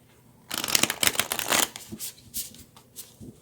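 A deck of tarot cards is shuffled up close, starting with a burst of rapid riffling flutter and settling into slower, softer card slides and taps, without any talking.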